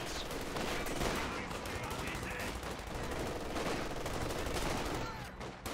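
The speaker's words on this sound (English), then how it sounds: "MG42 now firing away." An MG42 machine gun fires in a Company of Heroes 2 battle, dense rapid bursts rattling continuously amid other gunfire, moderately loud and mixed with game noise.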